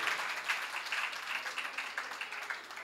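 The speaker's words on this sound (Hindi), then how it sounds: "एक बार जोरदार तालियां" Audience applause at a Jain religious gathering and prize presentation in Delhi, a sustained burst of many hands clapping at once, dense and fairly loud with no talk over it.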